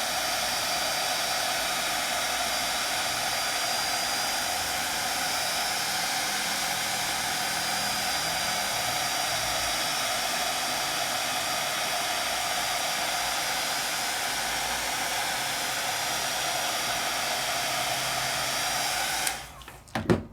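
Embossing heat tool blowing hot air onto paper in a craft session, a steady loud whooshing roar that runs unbroken and alone for about nineteen seconds before cutting off abruptly, with a brief clatter at the end.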